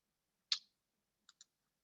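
A computer mouse clicks a continue button on screen: one sharp, close click followed by a quick faint double click in a quiet room.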